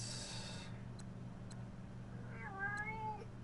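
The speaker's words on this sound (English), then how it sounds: "Shut up, cat." A cat meows once, a drawn-out wavering cry, at low level near the end, heard against a steady electrical hum with a few faint ticks and a brief high whine at the start.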